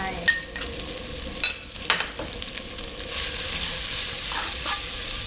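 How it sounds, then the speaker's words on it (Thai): Coarsely pounded chili and garlic stir-fry in hot oil: a few clattering scrapes of a spatula in the pan, then a loud, steady sizzle close by. "ผัดพอให้หอมๆนะคะ"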